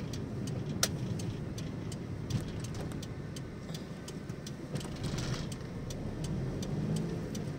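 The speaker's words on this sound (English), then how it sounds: "Why is that car not entering?" A car on the road, heard from inside as a steady low engine and road rumble throughout, with faint repeated ticking clicks over it and no talk.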